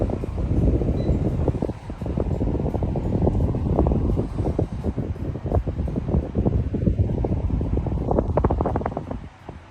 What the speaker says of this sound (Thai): ความแรงของพัดลมเบอร์หนึ่ง